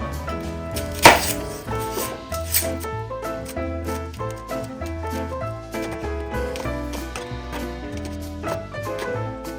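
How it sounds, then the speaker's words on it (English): A knife chops vegetables for homemade kimchi on a cutting board, a steady rapid series of close, crisp thuds over background music. "All the veggies are now chopped and ready for the sauce."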